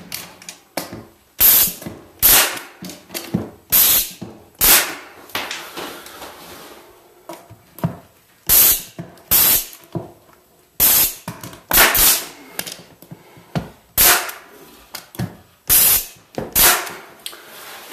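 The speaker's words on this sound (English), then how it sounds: "we're just about to nail in our filler strips here. Of course, again, we got our handy dandy Porter cable brad nail" A Porter Cable brad nailer fires into wooden filler strips on office cabinets, sharp pneumatic snaps with hissy air bursts, about twenty shots in irregular clusters, close and loud, with brief pauses between groups.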